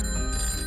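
A telephone rings with a steady, high, bell-like tone that holds through a brief stretch at moderate loudness, with no voices over it.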